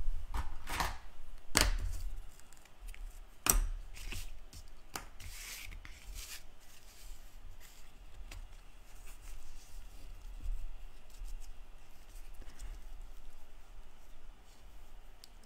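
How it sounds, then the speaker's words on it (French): Scissors snip through patterned paper while a greeting card is being decorated, with a few sharp cuts in the first seconds and then faint rustling and handling of paper at close range. "Mes ciseaux."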